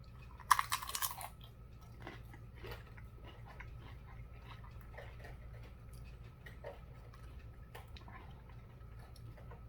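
Someone crunches on a tortilla chip topped with salsa heavy in lime juice, cilantro, onion and tomato; one loud bite up front, then quieter crunches scattered over a low steady background hum.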